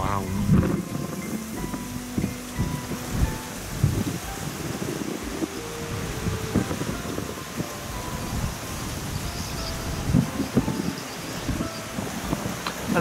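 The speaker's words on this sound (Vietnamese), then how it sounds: "Trên này gió, gió thổi ào ào." Strong wind roaring across a forested hilltop in the highlands of Ea H'Leo, Dak Lak, a constant gusty rush buffeting the microphone while someone speaks Vietnamese over it.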